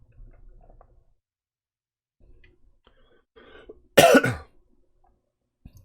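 A single harsh, loud cough bursts out in a quiet room after soft background murmurs, with a brief throat sound following, from a man with a chronic postnasal-drip cough.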